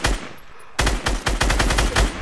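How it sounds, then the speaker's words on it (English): Loud automatic gunfire erupts in a video game, with rapid close bursts of shots after a brief lull and no voices heard during the shooting. "I'm getting shot at now."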